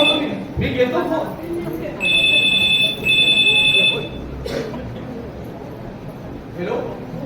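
A telephone rings in two bursts of electronic trills at a home, heard over a background of people talking.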